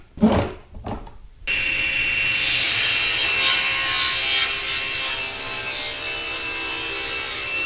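Wooden panel halves being planed for a furniture build: after a few brief knocks, a loud, steady rushing machine noise runs continuously to the end.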